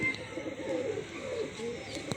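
A perched pigeon cooing close by, soft low rolling coos repeating through the short stretch over faint background hum, with no talk.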